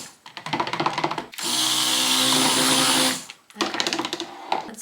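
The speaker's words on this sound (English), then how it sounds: "We will mix that one first so we don't have to clean our stick blender between colors." Stick blender whirring through cold process coffee ice cream soap batter in a single steady burst of about two seconds, loud and close, framed by clattering and stirring noises before and after.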